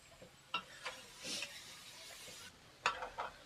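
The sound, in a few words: roasting mawa in a pan for carrot barfi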